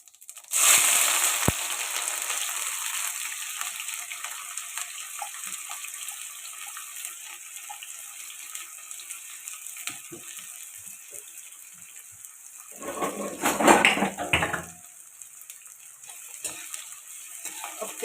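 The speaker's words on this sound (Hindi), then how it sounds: "तेल गरम हो चुका है, तो मैं इसमें डालूंगी जीरा, और जीरे के साथ ही ये हरी मिर्च और प्याज" Cumin, green chillies and onion hit hot oil for aloo methi sabzi, a steady bright sizzle that runs the whole time, with a louder burst of frying and stirring late on; no one speaks.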